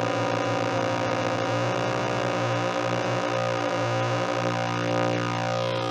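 Two steady electronic tones from a vocoder build sound together, buzzing and dense with harmonics, with a wavering, shifting beat pattern throughout at a constant loud level.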